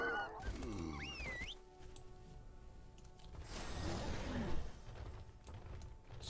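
Birds squawking in the video game World of Warcraft Dragonflight, with a few harsh, goose-like honks up front followed by a quieter, noisy flurry of squawks and flapping, fairly faint and with no talk.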